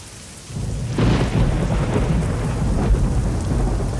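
Rain hisses steadily while deep thunder rolls in and swells, loud and close, with no voices, in the video game American Truck Simulator.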